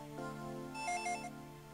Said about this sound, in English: Oh, phone rang.